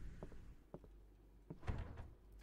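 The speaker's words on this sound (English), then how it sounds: "I'm over here shaking every door in the damn building." Several doors in the video game Fear The Moon are shaken and knocked, producing scattered soft thuds and rattles with one firmer clunk near the middle, quiet and without speech.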